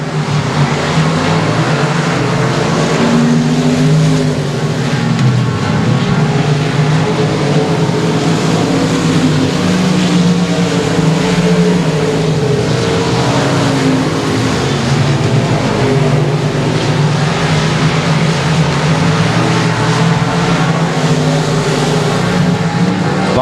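Race cars circle Sabine Speedway in a continuous loud engine roar that holds steady throughout, with overlapping motors droning and surging as the pack passes.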